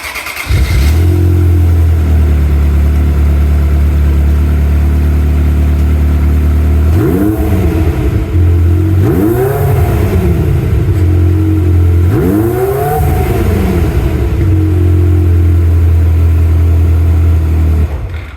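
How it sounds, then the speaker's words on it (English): A Ferrari F355 on its standard exhaust idles loudly up close, then is blipped through three short revs that rise and fall back to a steady idle. "So this is the standard exhaust that's on at the moment."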